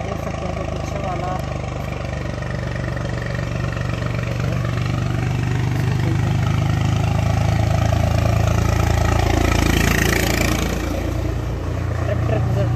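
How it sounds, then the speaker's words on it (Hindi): A tractor engine passes on a quiet rural road, a steady mid-pitched rumble that swells and peaks near the end and then eases off, while someone talks over it throughout. "ट्रैक्टर गुजरते हुए"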